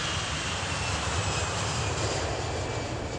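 An airplane takes off at Kochi International Airport, its engine roaring as a broad, sustained rumble and whoosh that stays loud and steady before cutting off abruptly at the end, with no voices.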